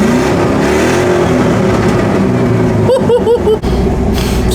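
V8 engine of a newly bought van running with a loud, continuous droning roar close by, rising in a few quick revs near the end before the sound cuts.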